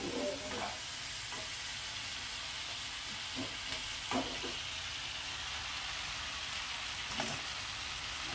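Maggi noodles are stirred in a frying pan at a home breakfast: a quiet, steady sizzle runs throughout, broken by a few soft scrapes and clinks of the spatula.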